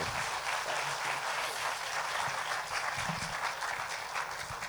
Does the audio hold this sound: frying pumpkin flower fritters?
no